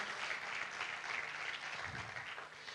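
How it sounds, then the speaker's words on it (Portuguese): A church congregation gives steady, continuous applause, a dense wash of clapping from many people that stays at an even level from start to finish. "Dê uma salva de palmas a Jesus"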